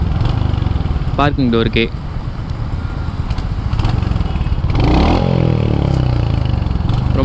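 A Royal Enfield Hunter 350 motorcycle engine runs with a steady, thumping mid-pitched drone, close and fairly loud, while someone speaks over it and a short whine cuts in midway.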